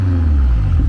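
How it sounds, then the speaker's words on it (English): A 750 hp BMW X6M with downpipes and a straight pipe exhaust revs with a deep, loud, booming drone, close by and sustained through the brief moment. "You hear that exhaust? That's those down pipes."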